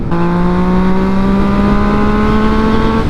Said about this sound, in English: Right now with the exhaust that it has, the bike doesn't sound super high pitched.